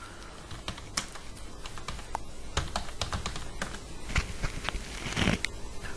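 Typing on a computer keyboard while writing up on-page SEO article links, a steady run of close, crisp key clicks in irregular bursts with slightly louder strokes near the end, no voices.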